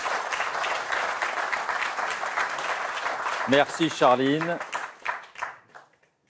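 Studio audience applause fills a French political TV debate show, steady dense clapping for about three seconds before a voice speaks over the fading crowd.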